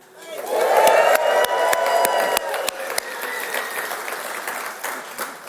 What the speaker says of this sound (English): I think we would be amiss to not just give him a cheer